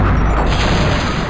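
Short, loud cannon boom from a boat in The Curse of Monkey Island, a heavy low impact that decays with a crashing, rumbling edge.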